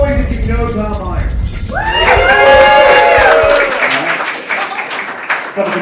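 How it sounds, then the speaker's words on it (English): Audience at a comedy roast cheering, whooping and clapping loudly as a crowd, a dense roar that swells and then gradually fades. "Make some noise if you do not know Tom Myers."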